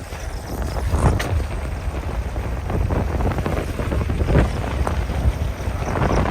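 Wind buffets the microphone during a bicycle ride with friends to Ranimahal, a loud, constant rushing roar with gusty swells and no voices.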